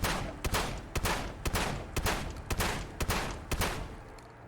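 Shotgun fired repeatedly in the video game Fallout 4, about nine sharp blasts spaced roughly half a second apart in a steady rhythm, loud and close with no talking.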